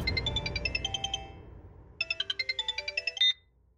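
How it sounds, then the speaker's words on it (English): Telephone ringtone, two bursts of rapid electronic trilling tones separated by a short pause, clear and close with nothing else heard. "The phone rang."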